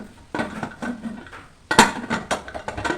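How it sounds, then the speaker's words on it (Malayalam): A pressure cooker lid is fitted onto the cooker on a gas stove in a home kitchen, giving a few close metallic clanks and scrapes of cookware amid softer handling noise. "കുക്കർ അടച്ചെക്കാൻ പോവുകയാണ്."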